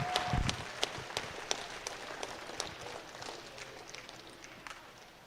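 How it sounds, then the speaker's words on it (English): Spectators at a junior beef steer show clap in a thin, scattered round of applause, individual claps standing out as it gradually tapers off. "give them a huge round of applause"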